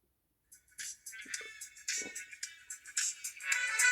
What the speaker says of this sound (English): I'm just going to play some music through my phone